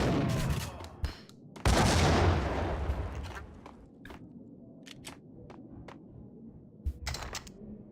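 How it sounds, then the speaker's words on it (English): A grenade blast from the shooter game Max Payne bursts out loud and close, surrounded by sharp gunshots and short thuds. "He hit the ceiling with that grenade."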